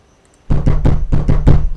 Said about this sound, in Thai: ใครเคาะประตูในเวลานี้เนี่ย